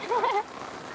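Steady patter of rain, a soft continuous hiss of falling drops, with a brief wavering tonal sound near the start.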